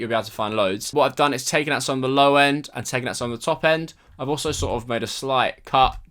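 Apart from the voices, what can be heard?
No everyday noises stand out.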